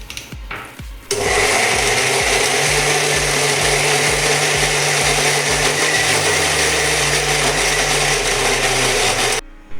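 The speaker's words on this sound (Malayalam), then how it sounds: "എന്നിട്ട് ഒന്നുകൂടെ നന്നായിട്ട് അടിച്ചെടുക്കാം." A kitchen blender whirs loudly while blending crushed Oreo biscuits with milk. The motor starts after a brief pause, holds a steady, high-pitched drone with a rhythmic pulsing underneath for about eight seconds, then cuts off sharply.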